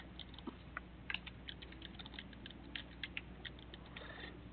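Light clicks of a computer keyboard tap out a name in quick uneven bursts, quiet and close, with no one talking.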